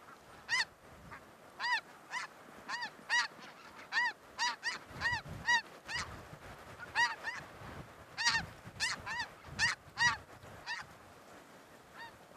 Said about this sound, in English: Geese, low to the right.